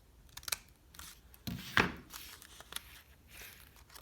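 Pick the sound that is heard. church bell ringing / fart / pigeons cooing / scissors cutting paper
scissors cutting paper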